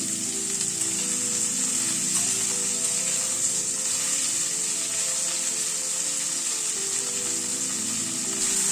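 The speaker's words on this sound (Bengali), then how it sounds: "ফুলকপিটা দিয়ে আবার মিনিট 2-3 একটু নাড়াচাড়া করে নিলাম।" Mixed vegetables with cauliflower sizzling in a pan while being stirred, a dense, steady hiss that stays loud and close from start to finish, no voices.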